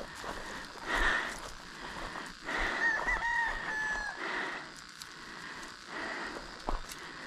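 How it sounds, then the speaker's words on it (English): Chickens cluck and crow in short bursts around an outdoor spot with a tree, close and moderately loud over low rustling and faint footsteps. "You scared of them chickens? It's a chicken."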